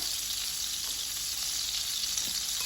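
Garlic hitting butter over medium-low heat in a pan for garlic shrimp, a bright steady sizzle that runs continuously and evenly, close and alone with no talking.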